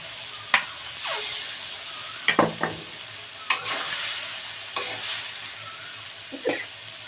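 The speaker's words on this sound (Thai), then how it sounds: "พริกแกงเราหอมแล้วนะคะ ใส่ปลาลงไปค่ะ" Catfish frying in red curry paste in a pan, a moderate sizzle with several sharp stirring and spatula clacks spread across the clip, no voices.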